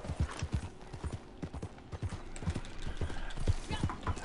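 Horse hooves clip-clopping in a video game, a steady run of quick rhythmic hoofbeats, close and clear, with faint talk under them.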